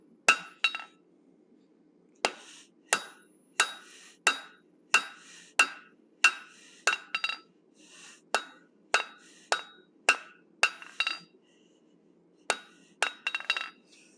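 Hammer blows ring out on hot steel while a cougar or lynx head is forged, a steady series of bright metallic clinks about every half second with short pauses, close and clear with no talk.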